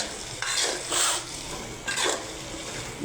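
Taro stems being fried and stirred in a pan, with rhythmic scraping strokes of a spatula over a continuous sizzle, close and fairly loud.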